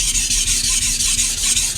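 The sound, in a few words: knife sharpening on Altstone Fukami whetstone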